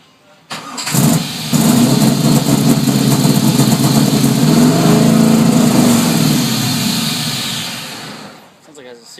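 Car exhaust idling up close, from an engine said to run an aggressive cam; a steady, loud, lumpy rumble holds for several seconds after a brief start, then fades slightly near the end.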